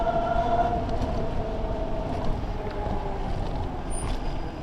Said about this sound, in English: The suspension on that truck back there pulling into that alley didn't sound good.